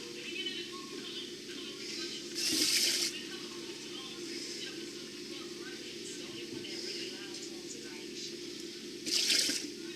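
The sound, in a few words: water poured into a pot of rice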